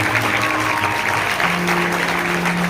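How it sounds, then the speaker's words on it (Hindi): Steady audience applause from a congregation at a religious teaching service, a dense continuous patter of clapping filling the whole stretch with a faint tonal hum underneath. "अच्छा लगा तो ताली देना परमेश्वर"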